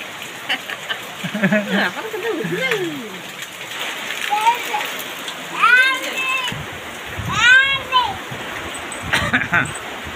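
Steady monsoon rain falls and splashes outdoors, a continuous hiss under children's voices that talk and call out over it.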